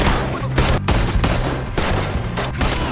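Rapid gunfire crackles through a Red Dead Redemption 2 shootout, with repeated loud shots in dense bursts over a steady low rumble and game score, no talk.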